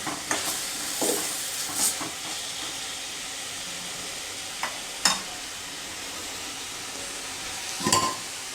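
Dry bombil (Bombay duck) masala frying in a pan, a soft steady sizzle with a few sharp scrapes and clinks of a spatula stirring, close and moderately quiet, no voices.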